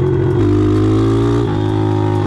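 A loud championship racing engine runs at high revs nearby, its pitch steady with a slight drop partway through, a continuous buzzing drone.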